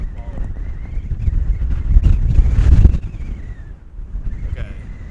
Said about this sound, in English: we're working with just a little bit of wind